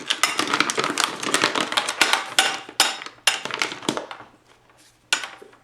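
A metal ammo box lid with freshly lubed hinge pins is slid back into place: a quick run of sharp metallic clanks, clicks and scrapes, close and fairly loud, thinning into a few spaced knocks.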